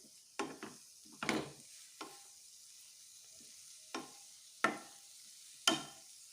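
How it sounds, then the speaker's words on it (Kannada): Grated raw mango roasting in a pan while being stirred to dry out, with several soft separate scrapes of a spoon against the pan over a faint steady background, close and quiet, no talking. "ಇದನ್ನು ನಾನು ಒಂದು ಬಾಣಲೆಗೆ ಹಾಕಿ ಹುರ್ಕೋತೀನಿ"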